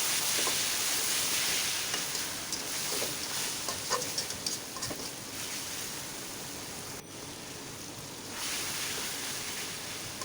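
Fish sizzles as it is stirred with spice paste in a frying pan, a continuous broad hiss with soft scraping, steady and close, then slightly quieter toward the end, with no voices.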